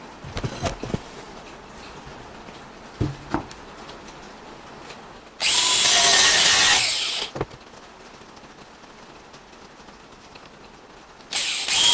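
A power tool grinds a glass wine bottle being cut for a tiki torch: a loud, harsh whine of about two seconds up close, preceded by a few clicks and handling knocks, with another burst starting at the end.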